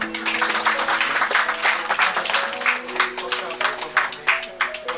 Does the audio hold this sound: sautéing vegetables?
no